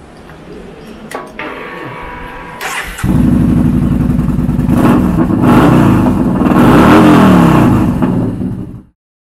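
A 2014 Yamaha XVS950 Bolt mid-size cruiser motorcycle starts up after a few light clicks, then idles with a steady loud rumble and revs up to a swelling roar before cutting off abruptly.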